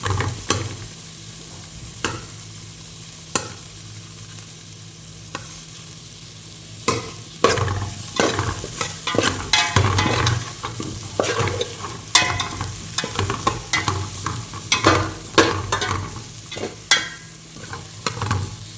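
Onions sautéing in hot oil in a pan for a Sankara fish curry, a steady sizzle broken by repeated close scraping stirs that grow busier partway through, with no talk.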